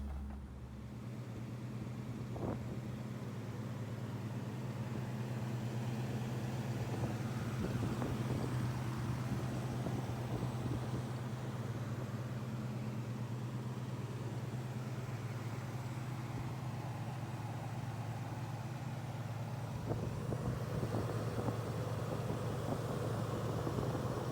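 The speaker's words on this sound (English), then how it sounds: "we're gonna go ahead and start her up" A 1971 Pontiac Firebird engine runs at a steady, deep idle close by. The rumble holds a constant low drone throughout, with a few brief revs or bumps, and no talking.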